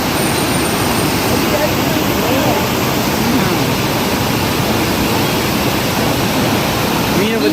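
Water of the Thamirabarani river rushing past near Sri Vaikuntam, a loud, steady broadband roar of flowing current that holds constant throughout without pauses or distinct splashes.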